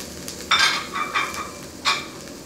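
Chilies for a fish curry fry in a hot pan with curry leaves and herb stems, making a steady low sizzle broken by three sharp bursts of crackling as they are stirred, close and fairly loud.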